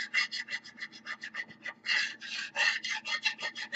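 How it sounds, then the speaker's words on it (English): A metal spatula scrapes the bottom of a crock pot after a chuck roast dinner, close-up rhythmic rasping strokes in quick succession, fairly quiet, with no talk. "I'm going to scrape so we get it all up. And that's also why I'm using a metal spatula to get it all up."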